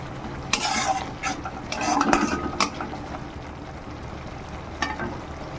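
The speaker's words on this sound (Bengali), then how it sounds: "দেখি আর একটু কষিয়ে নেবো ভালো করে টমেটোগুলো প্রায় সেদ্ধ হয়ে এসছে" Fish curry masala with tomatoes is sautéed in a pan for a khoyra fish dish. A spoon scrapes and clatters against the pan in irregular stirring strokes over a soft, continuous sizzle, close and fairly loud.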